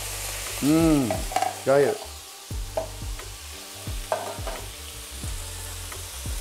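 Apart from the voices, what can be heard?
marinated meat frying on a teppanyaki plate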